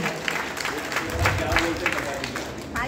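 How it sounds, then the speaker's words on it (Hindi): School children at a yoga day bootcamp applaud, a dense patter of many small hands clapping close by, mixed with young voices and chatter. "लक्ष्य मिश्रा के लिए जोरदार तालियां।"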